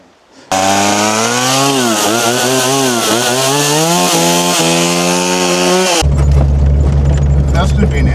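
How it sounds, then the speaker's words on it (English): A chainsaw cutting into wood in remote wilderness, its engine loud and close as it revs and bogs through the cut, then shifting abruptly to a rougher, steadier idle-like drone. "Just get the chainsaw"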